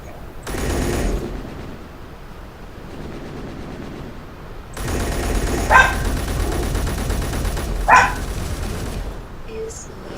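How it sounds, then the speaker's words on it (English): A dog barks a few times during a Space Engineers game, the barks mixed in with bursts of heavy gunfire and game noise, loud and up close. "there's the dog barking"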